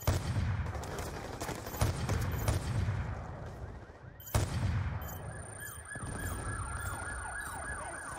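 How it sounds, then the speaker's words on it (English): Sniper gunfire in Call of Duty: Black Ops II, heard as a few sharp, heavy shots amid wailing emergency sirens and battle noise, with no clear talking. "Taking fire from snipers on the overpass!"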